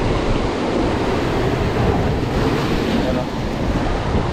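Sea waves roll onto the shore on a rainy day as a steady, loud, continuous surf roar with wind rumble and no clear breaks.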